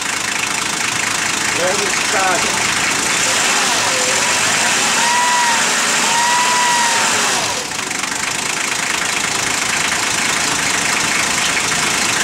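A 1984 Toyota FJ60 with a converted diesel engine idles loud and steady up close, its rough clatter running throughout, with a brief whine rising and falling partway through.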